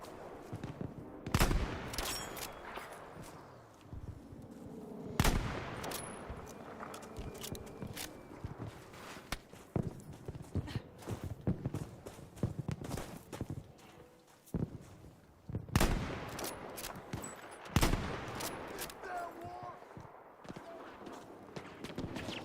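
Battlefield 5 battle din of repeated gunfire, sharp broadband shots and bursts scattered through the whole stretch, some louder and closer, others distant, over a busy background of footsteps and clatter with no talking.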